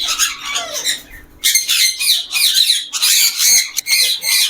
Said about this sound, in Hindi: ये देखिए माशाल्लाह ये मेरा वाइट रिंगनेक का पेयर है, ये भी मेरा ब्रीडर पेयर है